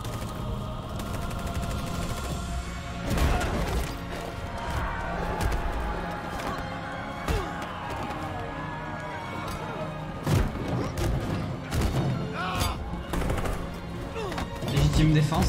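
Gunfire erupts in a Detroit: Become Human protest march scene, sharp shots and bursts scattered across a dense game soundtrack with someone talking over it.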